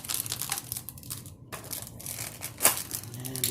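Lumenok arrows are cut free of tight plastic packaging with loud close crinkling and crushing bursts and one sharp snip or tear near the end, and no one speaks.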